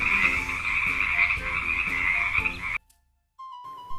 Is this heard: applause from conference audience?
no